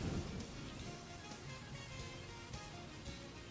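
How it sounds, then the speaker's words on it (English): Rain sound effect playing during a tabletop role-playing session, a steady, fairly faint wash of rainfall with a slight rumble at the start. "Sorry, my rain SFX is going a bit too crazy."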